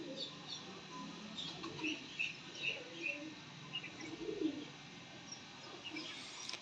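A pair of Kasuri pigeons coos softly in a series of low, rounded calls. Faint chirps and quiet voices can be heard in the background.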